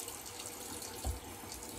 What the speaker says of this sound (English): So let me turn on a faucet.